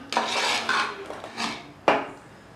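Spoon scraping and clinking against a cooking pot while chicken kurma is stirred with added coriander powder, a few separate close metallic strokes with quiet gaps between.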